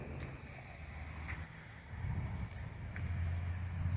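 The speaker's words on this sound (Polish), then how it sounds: "Podwiewa ten wiatr." Steady outdoor wind rushing and buffeting against the microphone, low rumbling gusts that swell louder toward the end.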